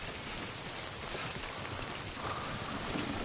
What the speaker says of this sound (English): I need to get the hell out of this rain though